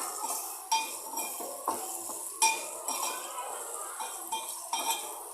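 Fried bitter gourd pieces are stirred in an oiled pan, each stroke giving a clank of spatula on metal over a soft sizzle, repeated at a steady rhythm with no speech.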